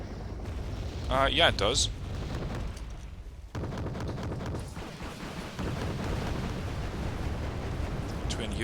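Bombs exploding in the Wargame Red Dragon strategy game on a Mount Narodnaya map, heard as a loud rumbling blast with a sharp onset about midway, followed by a sustained roar, with talk over the start.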